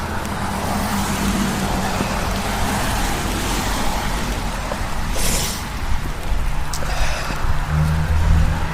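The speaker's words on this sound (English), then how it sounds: "There goes another bus." A bus passes at a transit hub during cyclonic rainy weather, its low engine rumble and tyre wash spreading under steady wet roadway noise, swelling slightly near the end.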